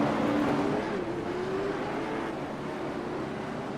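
Late model race cars circle a short oval bullring track under caution behind the pace car, a steady broadband engine drone with a faint rising tonal whine, continuous and moderately distant.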